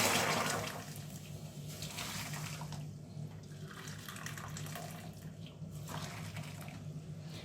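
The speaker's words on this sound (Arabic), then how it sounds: "كده انا عيرت مية سخنة." Hot water poured into a pot in a home kitchen while making tortilla dough, a steady splashing liquid rush that starts loud and settles into a continuous pour.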